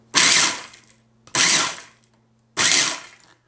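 A food processor set to chop, pulsing walnuts for granola bars: three loud whirring bursts of about a second each, separated by short silences.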